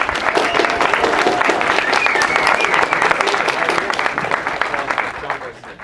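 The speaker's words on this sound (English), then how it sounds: "How about the first of many rounds of applause for all the participants we had this weekend" Loud, dense applause from an audience at a Startup Weekend final presentations event, a sustained round of clapping that holds steady and tapers slightly at the end.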